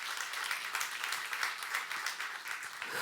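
A Korean church youth congregation claps warmly throughout, an even, dense wash of many hands at moderate distance, with no speech over it.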